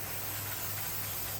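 A short, steady hiss of carb cleaner spray onto a towel, close and continuous for just over a second.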